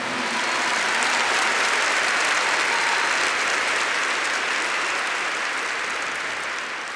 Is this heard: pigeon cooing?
no